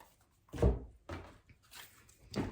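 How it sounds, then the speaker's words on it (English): Knocks on a desk: three or four dull, hollow thumps spaced roughly half a second apart, fairly soft and close, with no talking between them. "I'm knocking my desk here."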